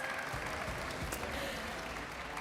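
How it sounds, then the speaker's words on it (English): Crowd at an MPL-PH Season 12 esports match gives a round of applause for the winning team, a dense, steady clapping roar that holds loud throughout with no clear voices. "Let's give a round of applause to MNNE Evos."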